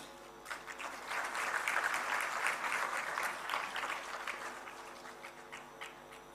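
Audience applause at a student award ceremony honoring meritorious pupils, a steady dense patter of many hands swelling in the first seconds, holding, then slowly thinning toward the end.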